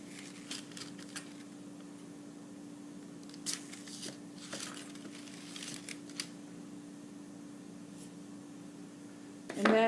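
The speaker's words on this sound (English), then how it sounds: "So I'm just going to cut it in half." A knife slicing through a wrapped stick of shortening on a kitchen counter, heard as a few soft, brief cuts and crinkles over a low steady hum, ending in a louder clatter.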